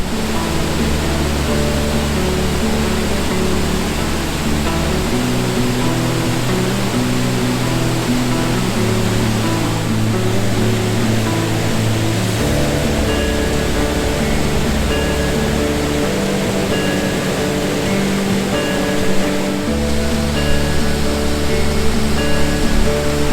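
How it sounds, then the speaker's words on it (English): A powerful waterfall thunders in a continuous, loud broadband roar, steady and close for the whole stretch with no voices, set in an outdoor landscape scene. "one of the great things about waterfalls is you can hear them coming."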